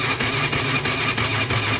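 A motorcycle electric starter cranks a hard-starting engine in a brief burst, giving a close, even churn with regular pulses roughly three times per second.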